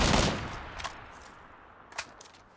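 Distant gunfire in the online shooter game Battlegrounds: a faint initial burst followed by a couple of isolated shots, quiet and far away, with no talking.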